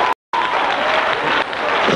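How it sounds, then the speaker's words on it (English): Church congregation clapping their hands in praise during a sermon, a dense, steady wash of applause from many people, briefly cut out near the start then continuing loud and sustained. "Come on here and clap your hands to God."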